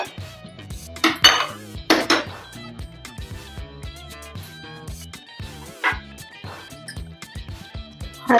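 Small metal tempering pan (phodni kadhai) handled in a home kitchen while making amla murabba, giving repeated clinks and scrapes of metal cookware in irregular bursts, close and moderately loud with no talking.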